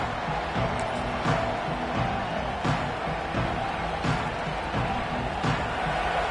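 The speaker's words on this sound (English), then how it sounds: "this crowd is fired up. Listen to this noise here." A large college football stadium crowd roars continuously at a distance after a kickoff, a broad wash of cheering with periodic swells and thumps, no clear single voices.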